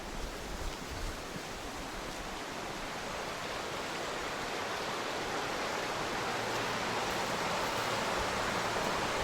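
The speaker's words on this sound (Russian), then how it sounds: "Похоже на то, что водопад любви — это вот этот вот ручеек." A small stream known as a waterfall in Abkhazia, in November, giving a steady, soft broadband rush of flowing water that stays even and fairly faint throughout, with no voices.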